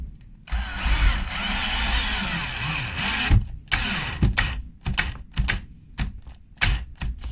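A Black and Decker 18V cordless combi drill at speed 2 whirs steadily and strains for a few seconds, then gives way to a series of sharp clicks and knocks close by.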